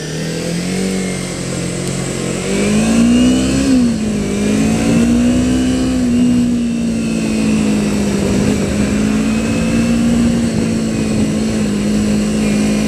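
A carbureted motorcycle engine on a cold start runs close by with a steady, throaty hum, rising briefly in pitch early on before settling into an even idle.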